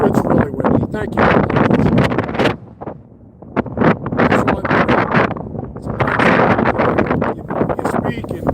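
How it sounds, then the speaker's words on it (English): Heavy wind pounds the microphone out on the ice while fishing, loud gusty roaring broken by a brief quieter dip, with someone speaking over it. "Yeah, it's really windy."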